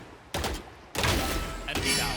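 Bursts of gunfire in the shooter game Valorant: two or three sharp, loud volleys of rapid shots separated by brief quiet gaps, close and dry.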